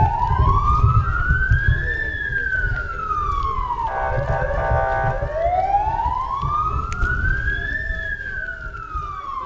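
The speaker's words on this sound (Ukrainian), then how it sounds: "Сергія та Владислава провели під звуки сирени" An air-raid siren wails, rising and falling in slow sweeps, with a brief warbling burst in between, loud over a low rumble of traffic in Khmelnytskyi, Ukraine.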